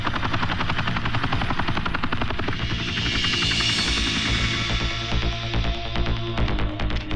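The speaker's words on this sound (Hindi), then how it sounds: "मैंने देखा कि होटल के लॉन के सामने एक हेलीकॉप्टर" A helicopter parked on a hotel lawn in a Bollywood film scene throbs loudly and steadily, its rotor beating in a fast, continuous chop that fills the whole stretch.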